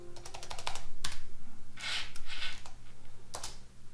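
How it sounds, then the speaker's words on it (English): Clicking keystrokes on a computer keyboard while entering Cisco switch configuration commands, with quick runs of taps, a couple of louder key strikes and short pauses, close and clear. "Now I can see what I'm typing."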